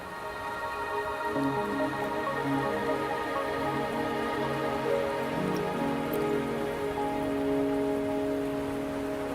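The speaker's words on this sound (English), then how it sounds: "Are you trapped here by the rain?" Steady rain patters on surfaces in the video game Wuthering Waves, a constant hiss of drops, with soft musical tones layered underneath throughout.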